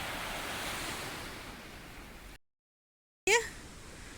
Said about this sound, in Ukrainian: Трошки вам передам того гарного моря